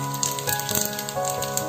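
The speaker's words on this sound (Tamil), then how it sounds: "பாருங்கள் பொரியுது." Whole spices crackle and fry in hot oil inside a large pressure cooker, giving a steady close sizzle with small pops and no voices.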